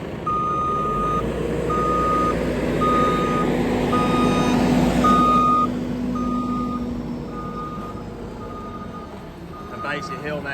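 A JCB loader pushing up maize silage on a farm clamp, its repeating reversing beeps sounding at a regular pace over a heavy diesel engine drone and a lower truck rumble, the beeping ending near the end.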